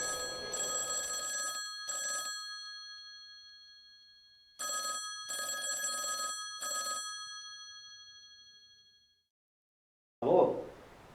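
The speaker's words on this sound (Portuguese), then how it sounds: "Esperando alguma ligação, Helena?" A telephone rings in repeated bursts, two short rings, a pause, then three more, fairly loud and alone, followed by a brief thump at the end.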